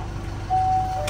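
Transtron vehicle voice-warning tone for the right turn signal on a truck, heard as a single steady electronic beep held for about half a second over a low idling engine rumble.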